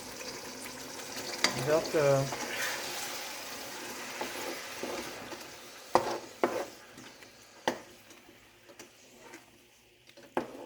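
Tomato poured into a hot pan for a potato and chicken dish, a soft wash of sizzling and frying with a few stirring clicks and knocks, fading quieter toward the end, under a brief spoken word.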